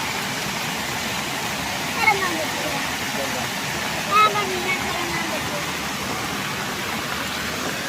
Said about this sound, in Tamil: சின்ன அணைக்கட்டு மாதிரி அது ஓவர்ஃப்ளோ ஆகி வருது பாருங்கள்